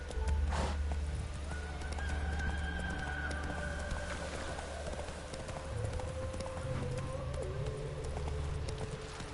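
Roach, the horse in Witcher 3, gallops with a steady rhythmic clip-clop of hooves, close and continuous, with a brief whinny-like tone near the start.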